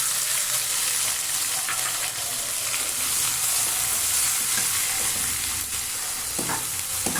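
Chopped onions fry and get stirred in a pan for a Tamil dried-fish karuvattu kuzhambu, a steady close sizzle with the spatula scraping through it, no voices.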